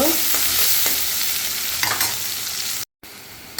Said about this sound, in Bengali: এই যে কেটে রাখা মরিচ পেঁয়াজগুলো দিয়ে দিচ্ছি দিয়ে আমি একটু নাড়ি মরিচ